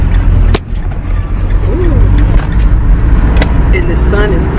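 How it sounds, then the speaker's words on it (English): A car drives along on a sunny afternoon, its steady engine and road rumble filling the whole clip loudly and close, with a few brief clicks and faint background sounds over the continuous drone. "And right now we're just driving."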